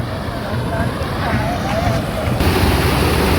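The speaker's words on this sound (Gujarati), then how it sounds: "આ ઝરણાનો અવાજ તમે સાંભળી લો" Rushing water flows continuously and loudly nearby, a broad steady roar like a swollen stream, with wind noise mixed in.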